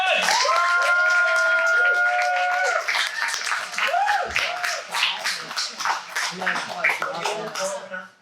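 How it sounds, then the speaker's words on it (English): A comedy club crowd claps and cheers for a stand-up act, a dense burst of applause with whoops that follows a shouted line and then slowly thins out. "Give her out of applause for Minnie Scouse, everyone!"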